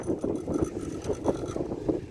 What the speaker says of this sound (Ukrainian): щось вітер такий сильний